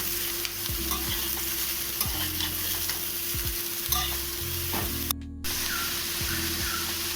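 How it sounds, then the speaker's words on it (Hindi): Mixed vegetables sautéing in a hot pan for a Kolkata street-style kathi roll, a continuous loud sizzle with periodic scraping stirs and a brief break midway, no talk. "फ्राई कर लेते हैं 5 मिनट के लिए, सौटे कर लेंगे अच्छे से"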